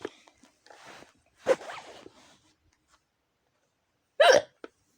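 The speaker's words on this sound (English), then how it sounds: "I felt a hiccup." A person's hiccups, two sharp close-up gulps a few seconds apart, separated by faint rustling and near silence.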